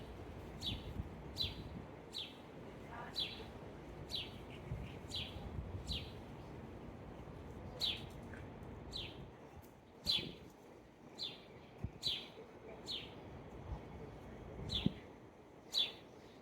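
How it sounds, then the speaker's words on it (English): A northern cardinal chirps outdoors, its short, bright calls repeating every second or so, faint and somewhat distant over a low background hiss. "There's a cardinal over there. I wish I could get a picture of it. A bright red bird."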